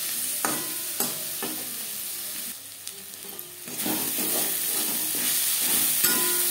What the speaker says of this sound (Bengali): পেঁয়াজ লালচে করে ভাজা হয়ে গেছে,